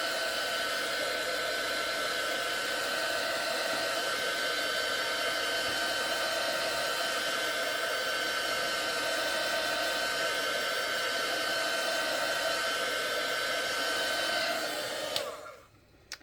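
A hair dryer blows steadily over a freshly painted custom bookmark, a loud continuous whooshing roar that holds level for about fifteen seconds before switching off near the end.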